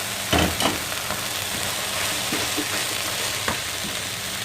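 Frozen and fresh vegetables, seasoned with salt, black pepper and optional hot red pepper, are stir-fried for Chinese fried rice: a steady, close sizzle with bursts of scraping and tossing, and no voices.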